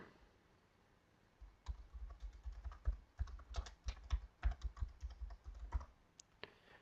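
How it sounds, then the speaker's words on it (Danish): Text being typed on a computer keyboard into a task-management log file: a steady run of quick, close plastic key clicks in irregular bursts, alone, after a brief quiet start. "Lad os prøve at skrive en tekst ind i logfilen her"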